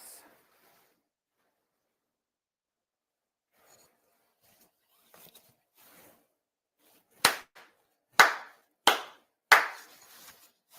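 Four sharp ritual hand claps at a Shinto autumn memorial ceremony ring out one at a time in a slow, even sequence, each with a short reverberant tail, after a long near-silent stretch with a few faint rustles.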